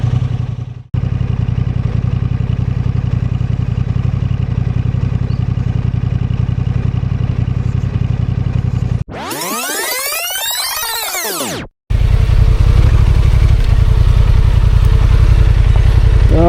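A motorcycle rides past on a rural road, its engine droning steadily and fairly loud, then a sharp rising and falling sweep as it passes close by, followed by the steady engine noise again.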